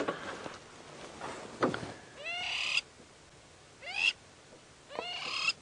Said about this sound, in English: there's our first bird of the sunset safari, the crowned lapwing